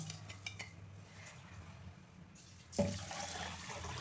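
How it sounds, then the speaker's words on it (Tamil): Broken rice and fenugreek seeds are washed in water in a kitchen, with faint clinks of a vessel and a louder burst of splashing and swirling water toward the end, close and without talk. "இப்போ நம்ம அரிசியை கழுவிக்கலாம்"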